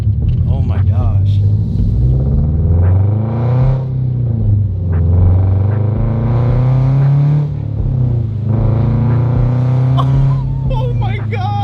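A Toyota GR86 fitted with PLM UEL headers revs up and down repeatedly, a loud raspy exhaust note rising and falling in several swells with pops, close by and mixed with excited talk.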